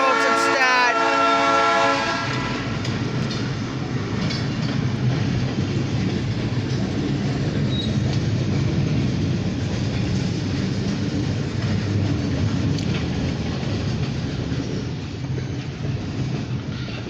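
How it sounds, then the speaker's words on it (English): An OC&T short grain hopper freight train rolls past near Titusville, opening with horn blasts, then a steady loud rumble and clatter of hopper cars that continues without pause throughout. "an OC&T short grain hopper train. Let's check it out."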